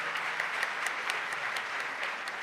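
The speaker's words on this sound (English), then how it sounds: "I think a bigger round of applause for that." Audience applause at a science quiz final held on a school campus, a steady wash of many hands clapping with fairly even density throughout, moderately distant and without talk.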